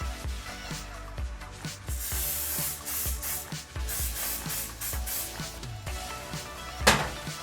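Cooking spray hisses onto a waffle maker before Liège waffles are baked, in a series of short close bursts with small clicks, with no talk.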